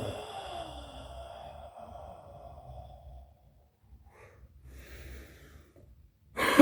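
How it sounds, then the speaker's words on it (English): Heavy, labored breathing from a person winded after high-kick martial arts training, a run of loud gasping breaths and sighs that fades to quieter panting, then a sharp burst at the end. "I'm out of breath because I'm out of shape"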